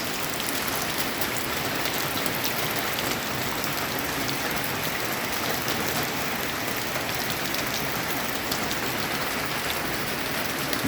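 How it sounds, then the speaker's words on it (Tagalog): Heavy overnight storm rain in Iloilo, Philippines, pours down in a dense, steady hiss that stays loud and unbroken throughout, with no voices. "malakas pa rin ang ulan"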